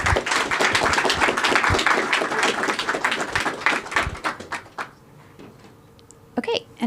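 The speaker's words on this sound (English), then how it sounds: "I'll ask you to give them a round of applause." Conference attendees at the Transparency.dev Summit 2024 give a round of applause, dense close clapping that holds steady for several seconds, then thins to a few scattered claps.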